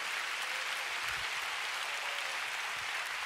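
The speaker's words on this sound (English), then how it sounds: "Let's give the Lord a big clap tonight." A church congregation claps and applauds continuously, a dense steady wash of hands with no voices over it.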